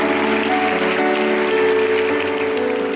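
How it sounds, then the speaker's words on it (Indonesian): A church congregation applauds during a sermon, producing a loud, dense, steady wash of clapping that holds for a few seconds over sustained organ-like musical tones. "Berikan tepuk tangan buat Tuhan Yesus"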